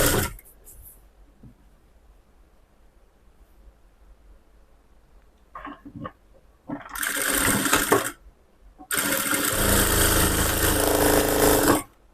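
A sewing machine stitches the shoulder seam of a lined blouse. A few short quiet whirs come first, then two longer bursts of rapid, steady mechanical stitching close by, separated by a brief pause.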